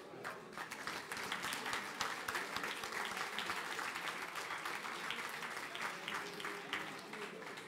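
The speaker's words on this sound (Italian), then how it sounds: "un applauso" Dense, steady applause from an audience at an evening sports awards ceremony, greeting the winner of a youth sports prize, sustained throughout with a few voices mixed in.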